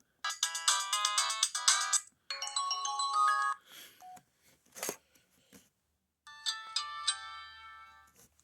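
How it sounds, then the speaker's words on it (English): Verizon ringtones on an Affinity Cellular phone play in short bursts: bright electronic melodic tones and chimes, clear and close, separated by brief pauses with a quieter blip between, no talking. "Affinity Cellular still has this Verizon sounds."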